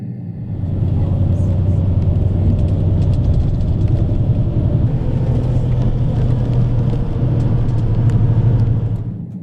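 A coach cruises along the road toward Nagano, its engine giving a steady, loud low rumble with continuous tyre and road noise throughout.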